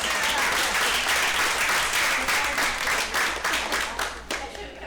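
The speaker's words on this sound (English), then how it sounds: "Give her a round of applause." A room full of people bursts into dense applause, loud and sustained, with clapping that thins toward the end.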